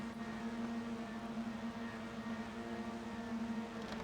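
TCR touring cars sit on the starting grid at Okayama in a sim racing game, their engines revving as a steady, even drone that holds throughout with no voices over it.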